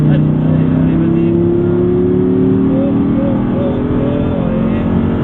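An Audi R8 V10 with 525 hp pulls hard on the Issoire circuit, its engine note rising steadily and loud from close by, with no break throughout.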